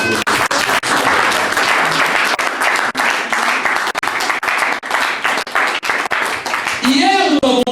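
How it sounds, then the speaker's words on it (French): A church congregation applauds during a sermon, sustained clapping that stays loud and dense for several seconds before tapering off, with a voice rising near the end. "Tu peux acclamer pendant une minute."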